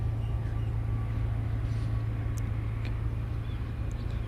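A landed airliner rolls out with its nose held up for aerodynamic braking at Cairns Airport, giving a steady, low engine and rolling rumble with a constant hum, heard from a distance.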